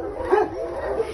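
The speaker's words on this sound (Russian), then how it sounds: "Пушистенькая какая собачка." A small, fluffy dog gives a short, close bark with a soft whimpering tone, alone and without talk.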